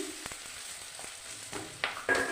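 Boiled potato pieces fry briefly in a pan with green chilies for an Amudi fish curry. A faint, soft sizzle runs throughout, with a couple of light utensil clinks near the end.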